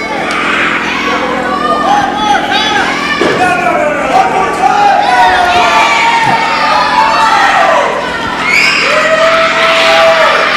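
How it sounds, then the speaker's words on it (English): A live wrestling crowd reacts loudly against Ace Armstrong, with sustained shouting, jeering and high-pitched children's yells rising and falling through the whole stretch, dense and close. "This crowd does not like Ace Armstrong."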